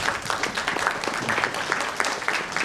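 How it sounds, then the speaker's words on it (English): An audience at a Spain–India forum session applauds its panelists, a short burst of scattered, moderately loud clapping from a modest crowd. "please join me in giving them a round of applause"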